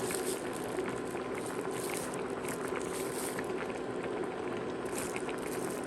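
Gamjatang, pork bone and potato stew with green onion, crown daisy and perilla leaves, bubbling in a pot on a tabletop electric stove, a steady close rolling boil that continues throughout.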